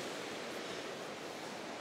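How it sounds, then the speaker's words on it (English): Small rain-swollen waterfalls pour down the side of Hokitika Gorge on a wet day, giving a steady, even rushing hiss with no breaks or voices. "the little waterfalls coming down off the side here"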